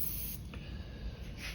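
A Harder & Steenbeck Evolution airbrush sprays paint with the trigger pulled all the way back, giving a steady, close hiss of air that runs through the whole moment without a break and with no talk.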